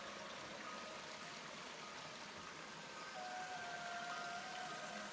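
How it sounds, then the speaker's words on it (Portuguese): Steady, even rush of water from a small waterfall at Paranapiacaba spilling into a dammed pool of clear water, a continuous broadband wash with no talking, moderately quiet throughout. "escute o barulho da água"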